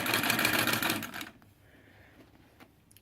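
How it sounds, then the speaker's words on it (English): A Singer 99k sewing machine, recently readjusted after years without servicing, runs a quick burst of rapid clattering stitches for just over a second, then stops, leaving faint rustling and a small click. "let's see if we're still making a stitch now that I've cranked around on everything."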